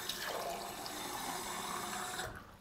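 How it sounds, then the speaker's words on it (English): Water runs steadily from a tap into a glass for about two seconds, a continuous close hiss and splash that stops abruptly, with no talking. "This is how to get water,"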